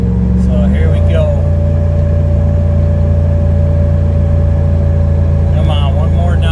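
Chevy 3500 Silverado dump truck pulling uphill under heavy throttle, a loud steady engine drone with a shift in pitch early on as it downshifts, heard from inside the cab.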